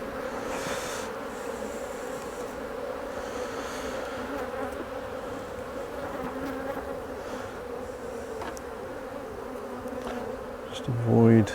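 Honeybees hum in a continuous, close drone around open hive frames of stores as a super is closed up, with faint handling knocks and a louder thump at the end.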